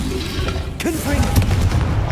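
Confringo, an explosive spell from Hogwarts Legacy, goes off in a close, heavy boom with a rolling rumble underneath, and a raised voice cuts across the blast.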